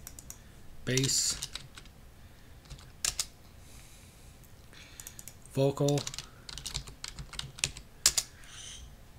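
Computer keyboard typing comes in short bursts of quick clicks between stretches of someone speaking, fairly close and moderately loud.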